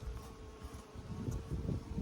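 Honey bees buzz around a hive feed pouch, a steady low droning hum with fluctuating intensity, close and continuous with no talk.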